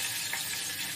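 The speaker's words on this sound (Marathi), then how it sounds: "तर या ठिकाणी तेल आपलं गरम झालंय, त्यामध्ये 4-5 लसूण पाकळ्या मी ठेचून टाकल्या आहेत" Crushed garlic cloves fry in hot oil, giving a dense, steady sizzle that stays constant and fairly faint throughout the short moment, with no voices.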